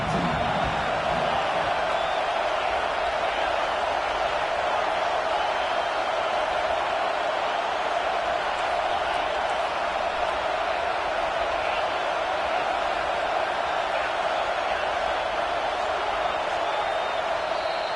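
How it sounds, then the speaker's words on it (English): A large football stadium crowd roars as a steady, dense wall of noise, loud and continuous, while the home side keeps the opponent pinned deep in its own end. "They've got them pinned deep in their own end, and this crowd trying to help keep them there."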